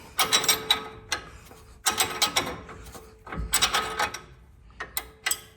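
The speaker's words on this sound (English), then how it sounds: "I'm gonna take a 21mm wrench and a 10mm wrench to hold the stud in place, and I'm just gonna loosen this up some" Metal wrenches ratchet and clank in irregular bursts while a 21mm and a 10mm wrench loosen a heavy-duty tie rod stud on a high-steer knuckle setup, close and sharp, with short pauses between grips.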